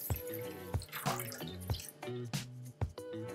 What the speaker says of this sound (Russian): Желатин залейте половиной стакана воды.